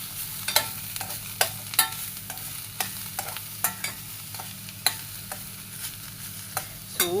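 Bitter gourd thoran being stirred in a pan, a spoon scraping and clicking against the metal in sharp, irregular strokes over a faint, steady sizzle.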